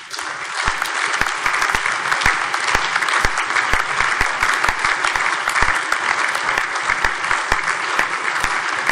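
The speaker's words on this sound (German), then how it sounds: "Applaus" Parliament applause during a plenary ceremony marking 70 years of the German Basic Law: a large chamber clapping in a loud, sustained wash, with sharper individual claps punctuating it steadily throughout and no talking.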